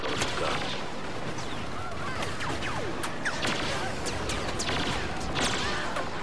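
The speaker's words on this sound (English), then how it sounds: "This gun is powerful." Dense blaster-style gunfire from a Star Wars video game crackles constantly over a loud busy battle bed, with repeated sharp shots and bursts layered throughout and no pause.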